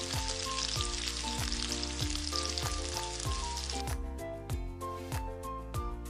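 Blended masala cooks in a pan for wedding-style degi chicken, with a close, continuous frying sizzle that eases slightly toward the end and a few soft stirring sounds, no voices.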